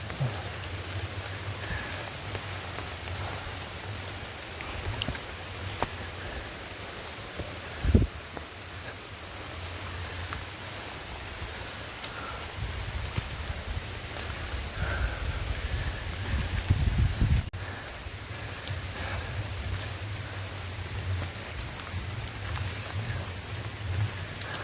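Steady rain falling on the hiking trail of Gunung Butik, a 1250 m mountain, in the December rainy season, a dense continuous patter with wind and rustling leaves and one brief thump partway through.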